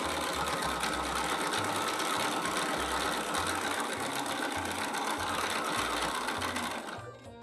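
A sewing machine stitches a quilt along a template, running in a fast, steady mechanical chatter for several seconds before slowing and stopping at the end.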